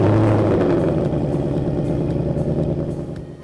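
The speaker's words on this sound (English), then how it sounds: "the pipe adds tonal character or an exhaust note to the sound of your car" A low, rumbling car exhaust note through a Steeda resonator delete H-pipe holds steady with a throaty burble, loud and close, easing off slightly at the end.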